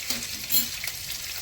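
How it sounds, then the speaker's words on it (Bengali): Cumin seeds tempering in hot mustard oil, a brief burst of close, crackling sizzle with a light stir, heard alone. "জিরে ফোড়ন করছি"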